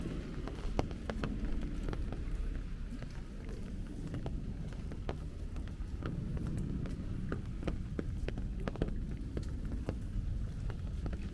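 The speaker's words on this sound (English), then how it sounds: "It's still raining, but it's very light, drizzly rain." Light, drizzly rain falls on a street in Astoria, Queens, a steady soft hiss of patter on surfaces with scattered sharper drip ticks and faint footsteps, no voices.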